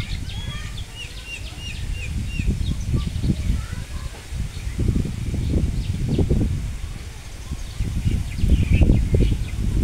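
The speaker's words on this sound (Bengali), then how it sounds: "কি সুন্দর বাতাস" Gusty wind blows through leaves under a heavily clouded sky, rumbling in uneven surges that rise and fall, while small birds chirp faintly in the background.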